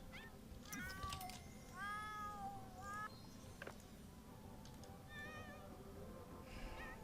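A cat in The Sims 4 video game meows in heat: several drawn-out, wavering calls in a row, loud and close over a low, steady background hum, with no talk.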